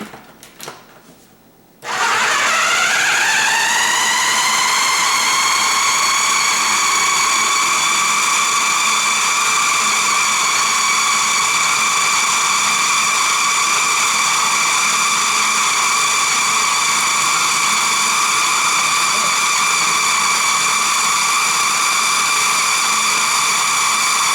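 A food processor starts up after a brief quiet moment and runs loudly and continuously, blending a raw chocolate cheesecake crust with a steady high-pitched motor whine that rises to full speed and holds there.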